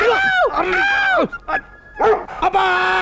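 A dog in a Telugu film scene gives loud, close, strained yelping barks and whines in several bursts, each rising and then falling in pitch, with short quiet gaps between them.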